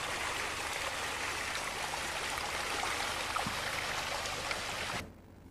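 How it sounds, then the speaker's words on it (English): Treated water from the Leinster sewerage works outfall pouring into the River Lugg, a steady broadband rushing and splashing flow at moderate level that stops abruptly near the end. "This is the outfall from the Leinster sewerage works"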